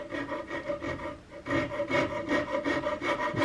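A coarse half-round rasp scrapes along the wooden stock of a Hawken muzzleloading rifle kit, making rapid back-and-forth rasping strokes, close and steady, with no talking.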